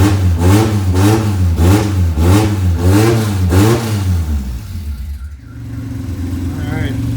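A 1995 Honda Integra RS with a swapped JDM B20B engine runs nearby, revving in a steady series of rises and falls before dropping to a smooth, even idle.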